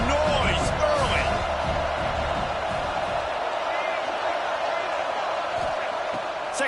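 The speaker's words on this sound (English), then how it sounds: "This crowd bringing the energy and noise early" Stadium crowd at a Michigan football game roars continuously as a loud, dense wash of cheering, with a commentator talking over it.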